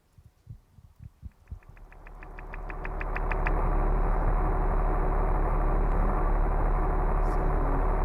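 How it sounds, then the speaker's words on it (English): A racing video game car engine loop, modulated by RPM, starts with a few sputtering knocks, then rises into a steady, loud droning loop that holds at a constant pitch. "There's an engine sound, which is modulated by the RPM of the car."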